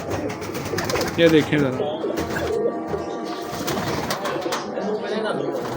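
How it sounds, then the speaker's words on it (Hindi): A blue Kamgar pigeon coos in a couple of short soft bursts amid rustling and bumping, while someone talks over it. "एक ये नीला कमगर कबूतर आया"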